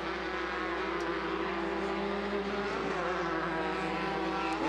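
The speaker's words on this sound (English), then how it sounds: "The top five buggies rounding the final corner now" Volkswagen-based Limited Buggy off-road racers round the final corner of a track, a loud continuous engine roar with steady droning tones and a dense, unbroken buzz throughout.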